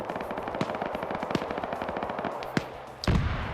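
A machine gun firing in a multiplayer video game battle, a rapid continuous rattle of shots with a few louder blasts near the end.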